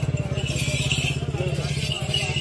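A motorcycle engine throbs steadily on a busy street at a Bakra Eid night animal market, its low, even pulsing loud and close throughout, with faint voices in the background.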